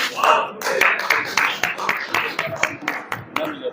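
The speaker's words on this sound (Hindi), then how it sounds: "जोरदार तालियां होती है।" Applause from an audience at a sales achievers' welcome and award ceremony in Jaipur: dense, loud rapid clapping spread across the room, with sharper individual claps standing out and a slight fade toward the end.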